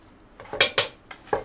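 Metal spoon clattering and scraping against a pot while turmeric and ground fennel are mixed for a Kozhikode-style chicken biryani: four or five sharp, close, loud clinks in quick succession, with no talking.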